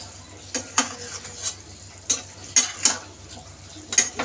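A spoon stirs red chili into a hilsa fish mixture in a pot, scraping and clinking against the metal in repeated sharp strokes over a low sizzle.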